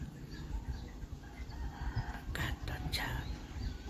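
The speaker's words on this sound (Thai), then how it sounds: "เสียงไก่ขัน" A rooster crows at a distance at six in the morning in Pattaya, Thailand, over steady outdoor background noise, with someone talking nearby.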